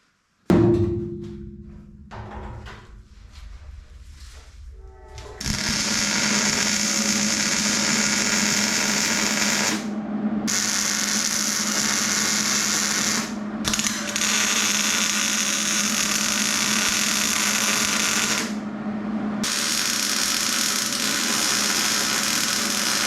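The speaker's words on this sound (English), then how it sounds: "We got everything welded all the way around the back plate. Now we're gonna do this front plate." Welding a plate onto the tank of an S30 Datsun: a few scattered clanks, then a loud, steady crackling buzz that runs in long bursts with brief pauses between them.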